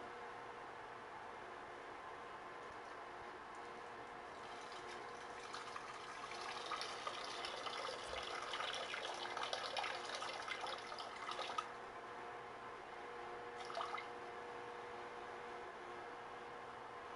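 Water is poured for a drink, a faint hiss that rises into a steady gush for about six seconds midway, then fades back to a low background hush with one brief splash later.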